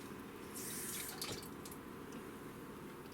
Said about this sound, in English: now you're gonna need to add 4 tablespoons of water as well